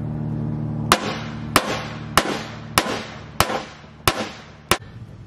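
Hammer striking a bent lawnmower blade to straighten it, seven loud metallic blows spaced about half a second apart, each with a short ringing tail over a low steady hum, close and alone.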